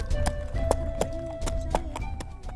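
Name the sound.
horse hooves clip-clopping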